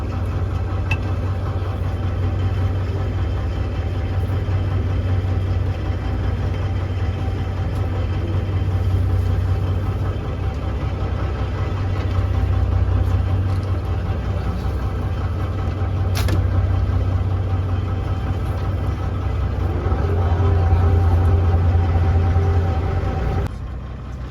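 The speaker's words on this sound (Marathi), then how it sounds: "आपले आपल्या समोर मोठी बोट आहे" Engine of a large boat passing near a small fishing boat at sea off Satpati, Mumbai, a steady low mechanical hum that swells and fades slightly over time, with no talking.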